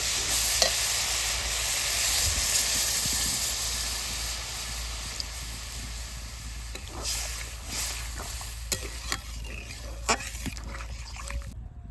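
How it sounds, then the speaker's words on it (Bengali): Eggplant pieces frying in a pan, giving a continuous hiss and sizzle with occasional stirring knocks near the end, close and fairly steady, no talk. "এবার বেগুনগুলো ভালো করে ভেজে নেব"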